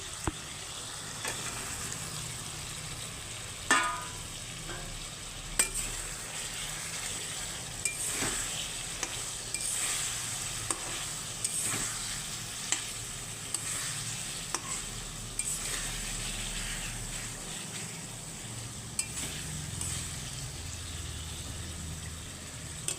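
Pointed gourds stirring and frying in a spiced oil mix in a pan, a steady sizzle with repeated scraping stirs and occasional utensil clanks, close and without talk.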